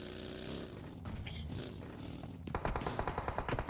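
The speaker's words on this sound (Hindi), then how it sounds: "पीछे से फायर आता हुआ 370 को पड़ी, यहाँ पे गोलियां पड़ती हुई" Gunfire in PUBG Mobile during a custom room match: bursts of automatic shots fired in quick succession over a busy background of game sound, with the firing growing denser and louder near the end.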